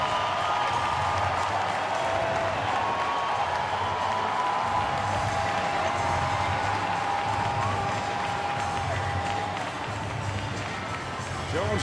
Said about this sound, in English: this crowd is big and it is loud